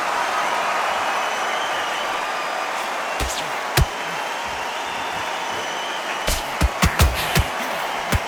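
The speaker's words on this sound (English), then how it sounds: "For all these reasons, you can hear everybody in the crowd." Crowd at a boxing event in a theatre venue in the Undisputed game, a steady, dense hubbub broken by several sharp thuds and impacts toward the end.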